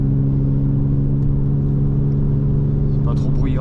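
A steady low engine hum and road rumble from inside a moving BMW 325ti E46, continuous and even throughout.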